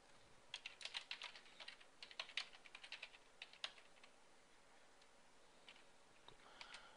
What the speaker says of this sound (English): So I'm typing right now